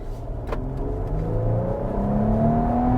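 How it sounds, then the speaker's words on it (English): Infiniti QX80 Autograph engine revving hard under full throttle, a loud steady whir with rising pitch that climbs across the whole stretch, heard from inside the SUV with no talk. "And floor it. Let's hear those VQ noises."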